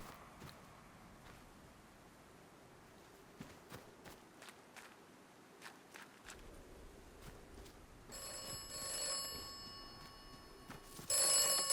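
A telephone rings repeatedly in the video game Atomfall, its electronic bell rising late over soft footsteps and quiet game ambience, with no talk.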